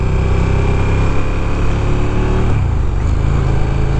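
A 2015 KTM 1290 Super Duke R motorcycle engine roars loudly and steadily on a test ride, its tone shifting and dropping partway through, with no talk.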